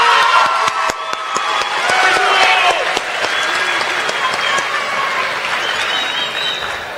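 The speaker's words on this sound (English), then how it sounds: "Let's hear another round of applause for all the candidates." A high school audience claps loudly and continuously for junior class officer candidates after their speeches, with cheers and whoops rising over the applause.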